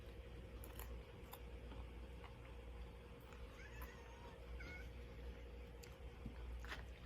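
Mittens, a pet cat, lets out a few faint, short meows in a quiet indoor room, barely rising above the low background.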